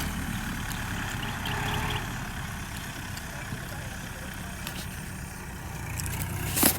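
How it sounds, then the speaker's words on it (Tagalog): A tractor engine idles steadily at moderate distance in a rural field setting at the start of the rainy season, a continuous low rumble throughout with a brief louder burst near the end. "dito na yung traktora"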